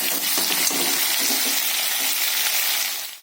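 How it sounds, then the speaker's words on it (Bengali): Spice paste and green banana sautéing in a wok for a thin katla fish curry, a steady loud broadband sizzle with faint scraping stirs, fading out abruptly at the end. "মশলাটা আমি এবার কড়াতে দিয়ে দেবো। কাঁচকলার আলু দিয়ে ভালো করে কষিয়ে নেব।"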